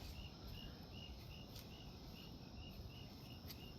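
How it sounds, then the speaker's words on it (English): Crickets chirp steadily in a regular pulsing rhythm over a constant outdoor hiss on a May evening, faint and somewhat distant, with no voices. "The crickets."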